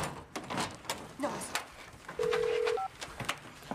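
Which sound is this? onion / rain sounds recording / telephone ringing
telephone ringing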